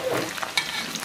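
Small fish fry in a pan of hot oil while being stirred for a home dinner, a soft steady sizzle with a quick scrape of the utensil partway through.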